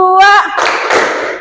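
A class of children claps hands together on a teacher's command, a short burst of clapping that follows a woman's spoken instruction.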